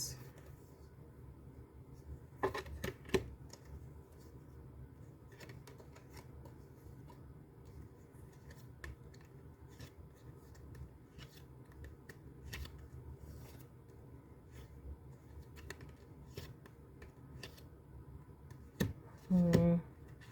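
Oracle cards being shuffled by hand, soft riffling and slapping in short bursts, near and fairly quiet, with a denser shuffle toward the end and a steady low background hum.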